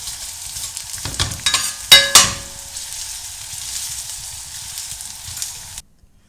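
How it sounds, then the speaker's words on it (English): Onions sautéing in hot oil in a frying pan, a bright steady sizzle with a few sharp clinks and stirring scrapes near the start, then easing off before cutting out. "in the frying pan I've heated up some oil and we just want them lightly brown"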